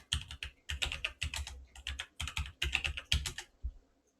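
Quick, uneven bursts of keystrokes on a computer keyboard as a passphrase is entered for GPG file encryption in a terminal. The clicks are close and crisp, grouped in short runs with brief pauses, and no one speaks.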